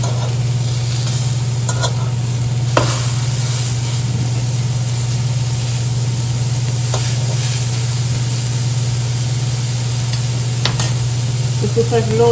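Turkey burger patties frying in a pan over medium-low heat, a soft continuous sizzle over a steady low hum, with occasional faint clicks and scrapes.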